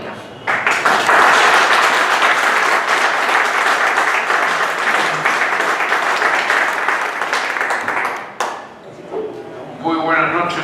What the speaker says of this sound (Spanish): Voy a empezar por agradecer ese aplauso tan efusivo